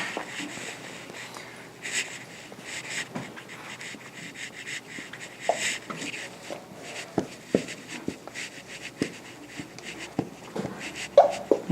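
Pen or marker writing by hand on a board while setting up a gambling game, a run of short scratchy strokes and taps close by over steady room noise, with no talking.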